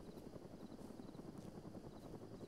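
In a military video game, a steady low thudding rotor drone of helicopters, fairly faint and continuous, with a dense rumbling wash and no voices.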